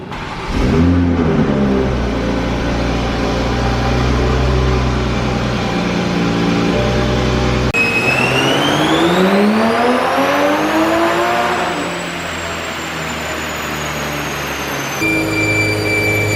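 A loud turbocharged 2020 Toyota Supra engine on a dyno, fitted with a bigger turbo, holds steady at high revs, then climbs sharply in pitch as it winds up, with a turbo whistle rising over the roar and no talking.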